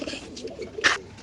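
White racer pigeons coo softly in a loft, a few low murmuring calls over a brief stretch with one brighter burst of noise near the end.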